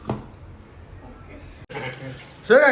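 Tap water runs in a steady, low hiss, with brief splashing of hands being washed, and voices speak near the end.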